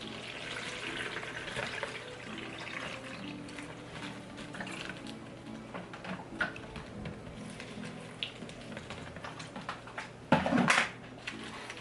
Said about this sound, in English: I just need to add some water because